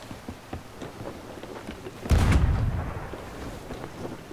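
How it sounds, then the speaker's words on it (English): A ship's cannon fires once in the pirate game Sea of Thieves, a single loud boom midway that rolls off slowly over faint background noise. "I don't know what he's shooting at, but he's wasting cannons."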